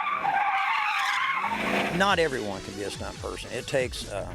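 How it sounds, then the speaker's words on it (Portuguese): A stunt car skids through a high-speed manoeuvre at nearly 180 km/h, with sustained, wavering tire squeal and engine noise under continuous narration by a voice. "ele mostra como os alunos podem controlar o carro numa manobra a quase 180 km por hora"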